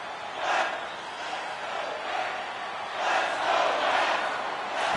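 A hockey arena crowd roars in the NHL 2026 video game during a tie game, a steady loud wash of cheering that swells in waves over five seconds.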